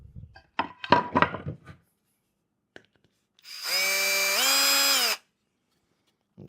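A power drill drives long screws into a beeswax-coated cedar bee hive kit, with a few short clunks of handling first, then one loud, steady whine lasting a couple of seconds that rises in pitch partway through.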